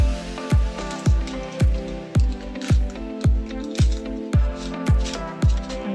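Misua noodle soup seasoned with salt and black pepper simmers in a pot, throwing up a steady, rhythmic run of close, wet bubbling pops about twice a second, with no talking.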